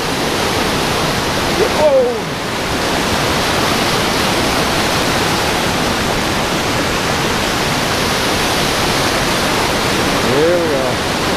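A river raging with spring meltwater beside the Bailey Bay trail, a loud, continuous rushing roar close by that fills the whole clip, with a brief exclamation from a voice over it.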